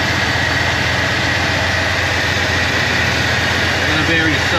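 A truck engine with eBay exhaust cutouts fitted, just repaired after a dead, burned-up cylinder, idles loud and close in a steady, unbroken low rumble.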